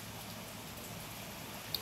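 Light rain falls during a stormy day at a rural Vietnamese home, a soft, even, fairly faint patter with one small click near the end and no talking.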